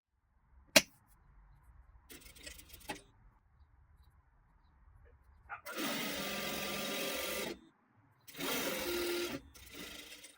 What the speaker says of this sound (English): At a 1/4 of an inch, you're going to sew up on top.